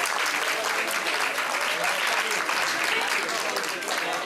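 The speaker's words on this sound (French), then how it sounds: "On peut les applaudir" Spectators at a card-trick performance break into continuous, full applause lasting several seconds, loud and close, with a voice speaking faintly beneath the clapping.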